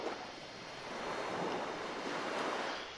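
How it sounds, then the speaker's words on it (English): Continuous rushing water in the video game The Last Door, like surf rolling in, a broad steady hiss that swells slightly in the middle, with no voices. "But I'm also still hearing water"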